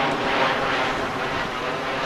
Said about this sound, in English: I don't know if you can hear me with the damn plane flying overhead.